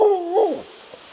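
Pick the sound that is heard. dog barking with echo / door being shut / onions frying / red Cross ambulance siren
dog barking with echo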